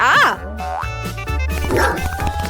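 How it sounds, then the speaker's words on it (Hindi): A dog in a lively kids' challenge scene gives springy, bouncy yelps and barks mixed with a cartoonish boing effect, loud and close over busy background music. "अरे, आप अपने साथ एक कुत्ता नहीं ले जा सकते।"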